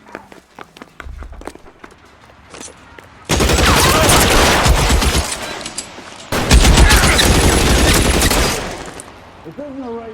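Sustained bursts of rapid gunfire from a shootout in the 2011 video game L.A. Noire, loud and dense for several seconds, with a brief break and scattered single shots and footsteps before it.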